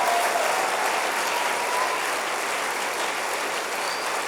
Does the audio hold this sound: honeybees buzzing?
no